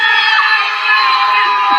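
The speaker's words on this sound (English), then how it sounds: "Oh, I hear the crowd." A crowd cheering and shouting, a loud sustained roar of many overlapping voices with high whoops, steady and close for the whole moment.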